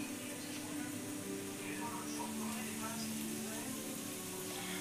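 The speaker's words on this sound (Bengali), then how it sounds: "এদিকে পেঁয়াজ ভাজা বসিয়ে দিয়েছি বেরেস্তার জন্য" Onions frying in oil for birista, a continuous sizzling hiss at moderate level with a low steady hum underneath, no pauses.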